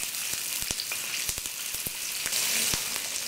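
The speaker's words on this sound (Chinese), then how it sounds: "用油煎一下。" Sour pork frying in oil in a farmhouse kitchen while sour bamboo-shoot soup is being made, giving a continuous sizzle with sharp crackling pops and spits scattered across it.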